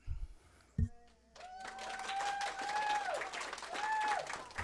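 Applause in a city council meeting, a dense stretch of many hands clapping that swells after a brief pause and carries on steadily, with a voice talking over it.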